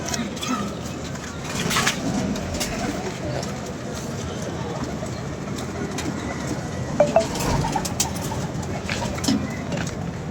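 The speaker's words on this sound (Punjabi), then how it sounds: "ਕਬੂਤਰ ਅੱਛਾ ਕਬੂਤਰ ਹੈਗਾ" Pigeons coo softly among a flock kept by pigeon fanciers, a low, continuous cooing bed with scattered wing flutters and faint voices talking in the background.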